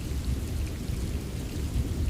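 Steady rain falls with a low rumble of thunder, a dense, even wash of sound with no voices.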